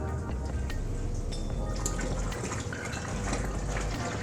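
Water rushes steadily through a hose as a pump fills a 20-gallon brew-in-a-bag brewing vessel, a constant close gushing fill with no pauses.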